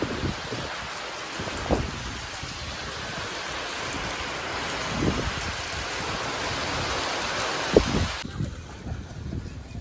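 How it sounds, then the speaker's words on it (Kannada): Heavy rain roars steadily throughout, with occasional louder thumps and splashes, close and continuous until it suddenly dulls near the end. "ಮಳೆ ನಿಲ್ತಾನೆ ಇಲ್ಲ"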